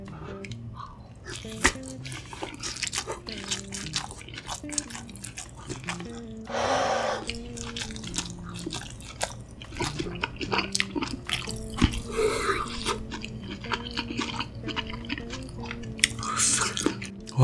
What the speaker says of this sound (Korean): 고기만두는 이렇게 간장 촉촉하게 묻혀서 먹어볼게요.